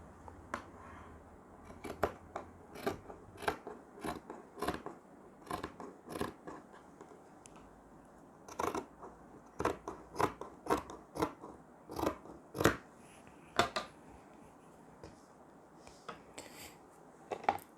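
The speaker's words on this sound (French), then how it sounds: "Et tu peux venir découper autour" Scissors cut through cotton fabric and terry towel in steady repeated snips, crisp and close, a long irregular run of sharp crunchy strokes with no talking.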